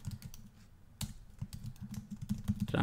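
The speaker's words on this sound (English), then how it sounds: "So I'm going to type in make money online." Typing on a computer keyboard, a quick, uneven run of close, crisp key clacks with a short pause near the start and a busier burst toward the end; no talking.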